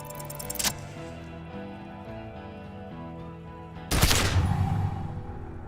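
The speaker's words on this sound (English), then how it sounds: "A plume of smoke and fire erupts from the gun, and your hand goes numb from the explosion." A single loud gunshot in the video game Disco Elysium, a sharp blast with a lingering rumbling tail, preceded by a brief crack and set against a quiet, droning music background.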